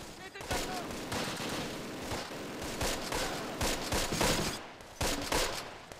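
Repeated bursts of battlefield gunfire from Close Combat: The Longest Day, a World War II strategy game, with dense overlapping volleys and rattling machine-gun fire in loud clusters across the whole stretch.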